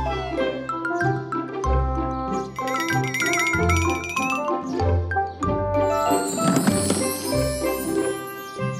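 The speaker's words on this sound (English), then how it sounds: "A bell! Ding-a-ling!" In a kids' cartoon about cars, tinkling bell tones ring out over bright, bouncy music, with jingling rising toward the end, continuous and moderately loud.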